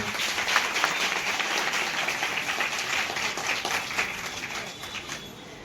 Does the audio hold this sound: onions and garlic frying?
no